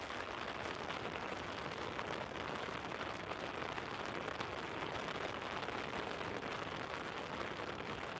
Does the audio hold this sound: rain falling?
yes